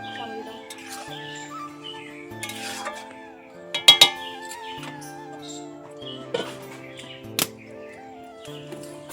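A utensil stirs a shrimp and taro leaf curry in a pan, with scraping and clinking against the metal and a few sharp knocks, while birds chirp in the background.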